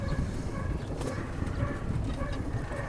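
A horse's hooves clip-clop steadily at moderate distance on a dairy goat farm, a rhythmic clatter over low outdoor background noise.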